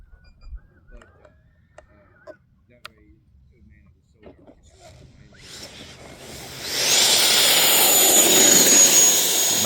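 An RC fighter jet's turbine engine swells from near silence into a loud, sustained roar as the model comes in to land, with scattered faint clicks and sounds before the engine noise grows.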